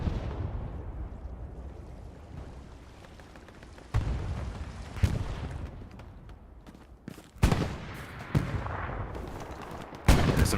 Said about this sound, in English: There's some shots in front of him.